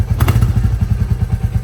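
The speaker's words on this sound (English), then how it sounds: "let's see the thump and exhaust note of Classic Reborn pea shooter silencer." Royal Enfield Classic 350 Reborn single-cylinder with a pea shooter silencer thumps at idle, a loud, steady rhythm of low exhaust pulses close by, briefly picking up with a slight blip early on, no voices.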